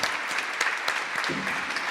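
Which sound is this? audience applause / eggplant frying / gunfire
audience applause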